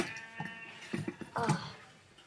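Sheep bleat several times in quick succession in a Minecraft game, the calls moderately loud and close, with no talking.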